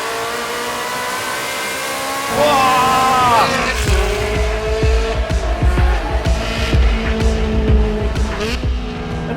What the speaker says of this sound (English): If it's noise you want, nothing quite abuses your eardrums like a 360 Challenge